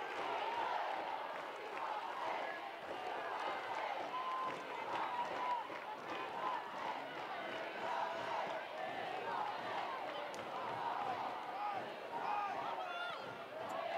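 A stadium crowd roars and cheers steadily at a women's football match between Arsenal and Brighton & Hove Albion as Vivianne Miedema warms up, a dense, sustained wall of voices with a commentator speaking over it.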